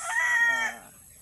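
A pet rooster lets out a single short crow, close and loud, with no voices around it.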